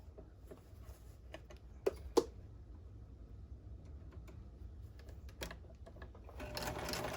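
A sewing machine back-stitches the start of a seam in quiet, rapid mechanical whirring, with a few sharper clicks and knocks and a louder burst near the end, heard alone.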